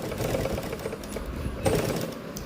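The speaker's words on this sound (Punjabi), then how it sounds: "ਸਟਾਰਟਿੰਗ 'ਚ ਆਪਾਂ ਡਬਲ ਸਲਾਈ ਕਰਾਂਗੇ" A sewing machine runs steadily through piping on a lined Punjabi suit, sewing a double line of stitches as one continuous, moderately loud mechanical whir with light clatter.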